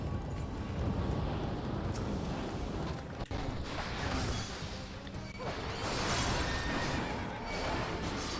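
A horse neighs in the video game Final Fantasy XIV Endwalker, a loud whinny set against a dense, steady wash of game sound, with a sharp crash-like hit partway through and no talk.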